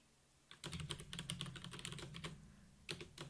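Fingers type on a computer keyboard while entering a SQL query, a quick, close run of clattering keystrokes after a quiet start, easing off and then ending in a final burst of taps.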